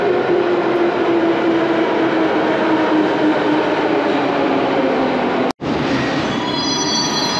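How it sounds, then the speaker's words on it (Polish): A subway train rumbles steadily past at close range, with a low tonal hum, rising metallic squeals toward the end and a brief gap in the noise. "A tutaj pociąg z reklamą Netflixa, więc na pewno go nagram"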